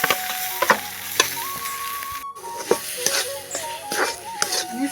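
Chana dal paste frying in mustard oil and ghee, a steady loud sizzle broken by repeated clinks and scrapes of a spoon stirring in the pan.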